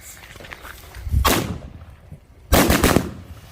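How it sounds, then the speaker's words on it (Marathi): Two sharp bursts of a string of firecrackers exploding during Diwali, each a rapid cluster of loud pops lasting about half a second, separated by a short pause with faint background noise. "तिचे पप्पा आता मोठी याची लढ पेटवताय"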